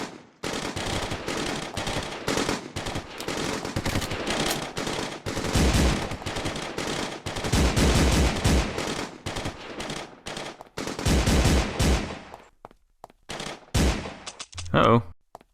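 Rapid bursts of automatic gunfire in the Crisis on Earth One video game, loud and dense, coming in clustered volleys with short gaps, then thinning out near the end.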